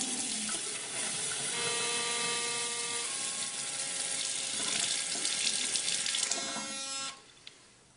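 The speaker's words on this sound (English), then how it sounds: "Okay, then you can run some running water." Tap water runs steadily into a sink while an electric shaver head is rinsed under the flow, a loud continuous close splash with faint mechanical clicks, cutting off abruptly near the end.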